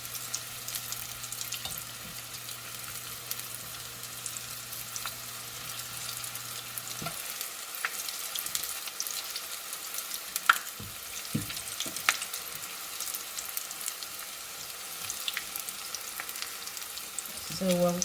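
Breaded okra deep-fries in hot oil with a soft, continuous bubbling sizzle, broken by a few sharp clicks and taps, and a low hum fades out partway through.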